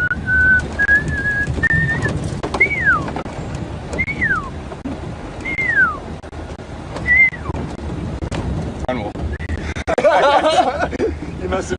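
A person whistles an imitation of a pearl-spotted owl call on a sunset safari drive, a series of about seven rising-then-falling whistled notes repeated at steady intervals over vehicle rumble and background voices.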